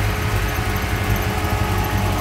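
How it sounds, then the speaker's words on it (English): An electric cooling fan runs steadily on a 1931 Ford Model A roadster street rod with an Offenhauser intake and three Rochester two-barrel carburetors, a constant close whir over the idling engine. "That's the electric fan you hear."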